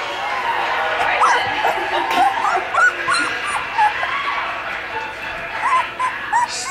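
Puppies yip and whimper in short, scattered bursts, with playful barks rising over a busy indoor background where people are talking.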